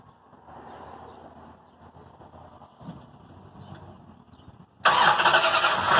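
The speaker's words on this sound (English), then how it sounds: "Let's hear what that engine sounds like." A 1965 Dodge Polara engine cranks and catches near the end, bursting into a loud, full roar after several seconds of quiet room noise.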